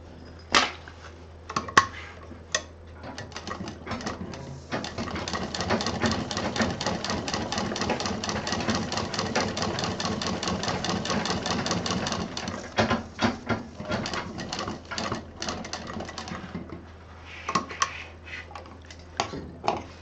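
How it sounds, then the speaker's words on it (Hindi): A sewing machine stitches the lining of a sling bag, starting with a few short bursts, then running in a long, fast, even mechanical chatter before stopping and restarting in brief bursts. "ये हमारी लाइनिंग भी सिल गई है।"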